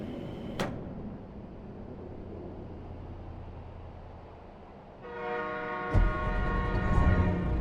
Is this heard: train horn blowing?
yes